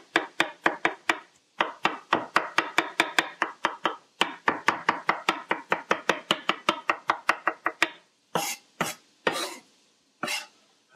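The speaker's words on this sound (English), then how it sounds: "we'll take this cauliflower mushroom, chop it up, dice, a real fine dice" Knife finely dicing cauliflower mushroom on a cutting board, close crisp rapid chops in steady runs with a short pause, then a few slower, heavier strokes.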